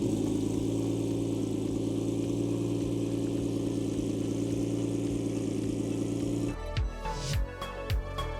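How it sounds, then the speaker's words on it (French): Ferrari 512 TR flat-12 engine running steadily at a smooth, loud, deep idle, then a few sharp blips of revving near the end. "Entendre le 12 à plat."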